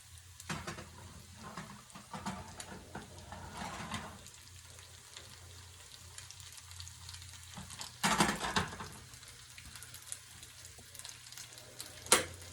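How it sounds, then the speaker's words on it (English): Teriyaki chicken sizzles and crackles in a pan, with occasional clatters from stirring and a sharper burst of spitting oil near the end. "In the pan for you guys. Hear that sizzle?"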